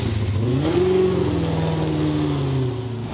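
A 600bhp Corvette C6 drift car engine revs loud and close, its pitch climbing then holding and sagging slightly as the throttle eases over a few seconds.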